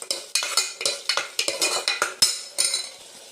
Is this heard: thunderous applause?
no